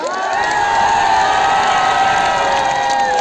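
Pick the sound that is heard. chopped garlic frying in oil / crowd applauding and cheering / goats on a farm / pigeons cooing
crowd applauding and cheering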